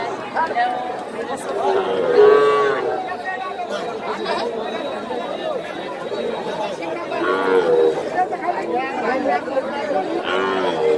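Busy crowd chatter fills a calf-trading cattle market at Choubaria bazar, Malda Naogaon, with a few low calf moos rising through the steady hubbub of people talking nearby.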